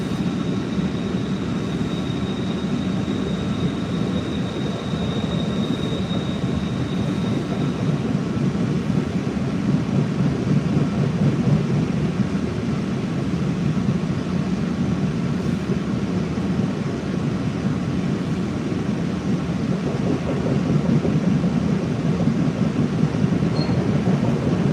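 An MBTA train running at night, carrying steady close rumble and rolling wheel roar throughout with no let-up, a faint high whine early on, and no talking.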